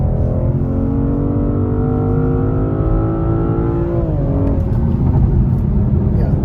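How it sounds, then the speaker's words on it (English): A 2021 BMW M440xi accelerating hard from inside the cabin, the engine note climbing steadily in pitch, dipping at a gear change, then building again, loud and close throughout. "We're accelerating so fast, and climbing up so fast, my ears are popping."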